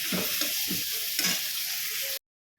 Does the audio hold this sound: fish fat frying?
yes